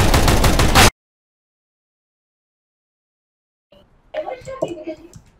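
Rapid burst of video game gunfire, dense and loud for under a second, then near-silence before children talk excitedly in the background.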